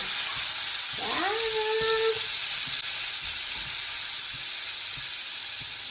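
Onion sizzling in a skillet for breakfast potatoes, giving a steady high hiss throughout, with a brief rising and falling tonal squeal near the start.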